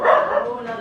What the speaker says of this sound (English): so excuse the dogs barking.